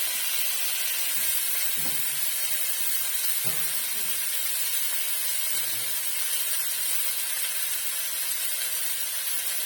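Continuous sizzling hiss of drumstick (moringa) vegetables frying in a pan, steady and fairly loud, with a few soft stirring knocks and no voices.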